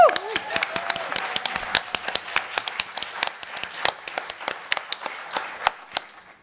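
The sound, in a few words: audience applause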